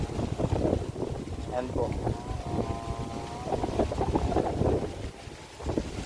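Wind gusting at a hilltop viewpoint overlooking Laguna Lake, buffeting the microphone in a continuous rush while a person talks over it.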